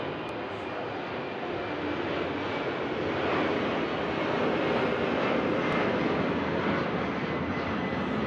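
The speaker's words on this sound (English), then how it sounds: "We have a lot of airplanes going by, so we'll pause here for a moment" Airplane passing overhead near an airport, a loud, steady broadband engine roar that swells slightly midway and holds throughout, with no talk over it.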